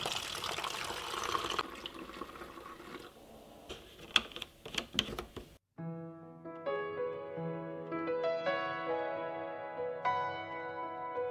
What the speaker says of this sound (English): And then fill up the bottle with some water.